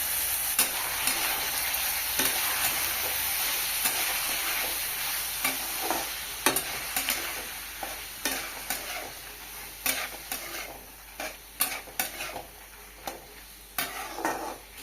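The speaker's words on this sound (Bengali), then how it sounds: "পেঁয়াজের সাথে আদা রসুন ভেজে নিয়েছি, ভিজিয়ে রাখা ছোলার ডাল দিয়ে দেবো।" Soaked chana dal fries in a pan with onion, ginger and garlic, giving a close, steady sizzle broken by repeated scraping stirs that grow more distinct and rhythmic toward the end, with no voices.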